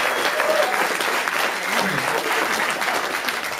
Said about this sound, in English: can we have clapping, a bit of cheering, pretty much happy